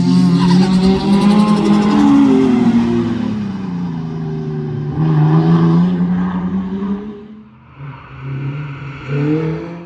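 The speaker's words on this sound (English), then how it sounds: "Sierra Cosworth has an RB25 Nissan Skyline power plant" A Ford Sierra Cosworth rally car with an RB25 Nissan Skyline engine roars and revs hard nearby, tires squealing as it drives past, the pitch rising and falling with gear changes.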